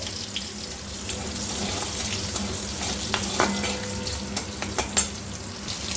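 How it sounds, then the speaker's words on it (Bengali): Black mustard seeds crackling in hot mustard oil with green and red chilies, a steady frying hiss with scattered small pops and spits close up, no voices. "এরপর আমি দিয়ে দেব একটু কালো সর্ষে ফোড়নে"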